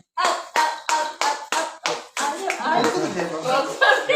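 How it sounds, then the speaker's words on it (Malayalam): Clapping hands at an Onam celebration, several sharp separate claps in an even rhythm, followed by denser, overlapping clapping with voices mixed in. "കൈയടി"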